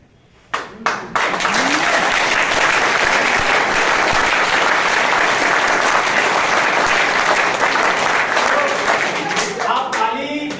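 A large audience at a motivational business speech breaks into loud sustained applause, dense clapping close and continuous for about ten seconds before tapering slightly, with a voice briefly heard at the end.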